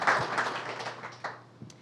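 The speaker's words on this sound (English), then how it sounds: "I think they deserve a round of applause as well" A room of people applauds, a steady patter of clapping that gradually thins out and fades, with a few last isolated claps.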